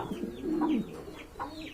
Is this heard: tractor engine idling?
no